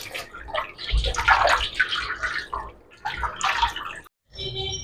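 Fresh coriander being lifted out of a bowl of cold soaking water, with repeated splashing and dripping water sounds close by, a brief pause, then a final trickle.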